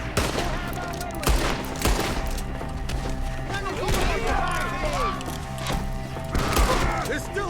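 Rapid bursts of video game gunfire, with volleys of shots and thuds, fire at enemies up in the trees, mixed with game sound effects and voices talking over the action.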